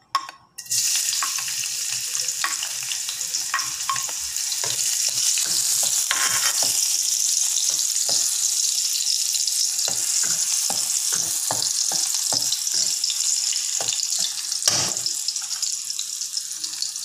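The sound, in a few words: chopped garlic frying in oil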